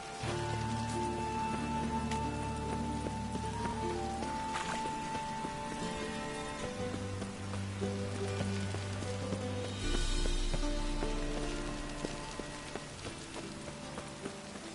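Steady rain falls in the Witcher 3 video game, a constant patter on surfaces with faint clip-clop and a soft game music bed underneath, no voices.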